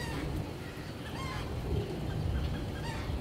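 Pigeons kept for sale in a loft call with a dense, continuous, fairly faint murmur of cooing and fluttering, with no clear breaks and no talking.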